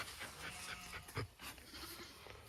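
A farm guard dog panting steadily and close by among sheep and young lambs, soft rapid breaths over a noisy outdoor background with a brief louder bump midway.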